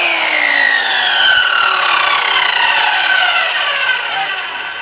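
Table saw ripping a wooden strip, half an inch thick, used as screw backing for drywall: a steady, loud, continuous cut with a rasping whine that slowly drops in pitch, easing off toward the end.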